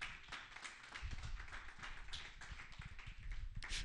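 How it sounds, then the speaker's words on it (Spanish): A church congregation claps together in steady, dense applause, moderately close and continuous with no break. "Dele un aplauso al Señor si está de acuerdo."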